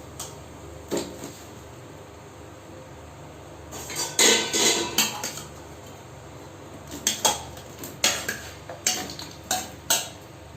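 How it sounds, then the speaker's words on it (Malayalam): Ash gourd pieces dropped into a pot of boiling water, heard as a bubbling background broken by a cluster of clattering knocks mid-way and a run of sharp pot and utensil clinks toward the end. "അതിലേക്ക് നമ്മൾ കഷ്ണങ്ങളായിട്ട് നമ്മൾ ഇടാം"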